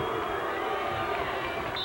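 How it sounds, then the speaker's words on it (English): A stadium crowd at a 1993 pro beach volleyball final in Clearwater chants a player's name, a steady roar of many voices filling the clip without pause. "Crowd chanting Louis, Louis."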